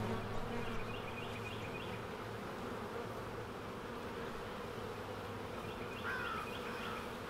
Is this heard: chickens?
no